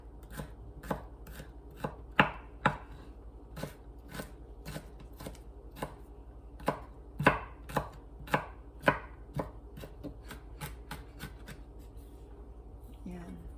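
A kitchen knife chops garlic cloves on a board in a home kitchen, giving a quick, irregular series of crisp, close knocks with faint background noise and no talking.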